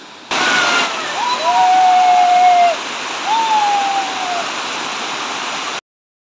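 A small monsoon waterfall at Marleshwar temple roars as a steady, loud rush of broadband water noise that ends abruptly, with a couple of faint thin tones drifting over it.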